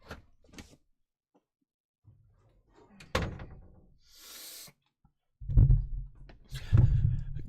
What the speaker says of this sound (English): I gotta close my door because I'm gonna get loud